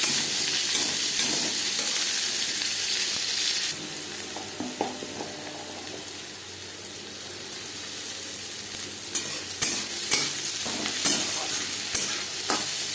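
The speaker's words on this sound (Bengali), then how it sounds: "দিয়ে দেবো পেঁয়াজ কুচি সেরা কাঁচা লঙ্কা" Chopped onion and green chilli fried in hot oil in a pan, a loud dense hiss that eases slightly partway through, with occasional spatula scrapes and knocks near the end and no talking.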